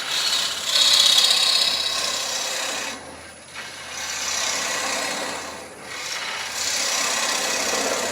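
A 3/8 gouge cutting waste wood from a pestle spinning on a lathe makes a continuous rasping hiss, broken by two short pauses as the tool lifts off, close and fairly loud.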